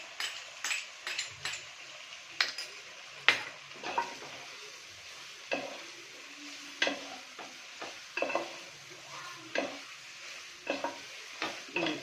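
Chicken noodles with sauces are stir-fried, a soft sizzle under repeated sharp clacks and scrapes of a utensil against the pan, coming in an irregular rhythm close up.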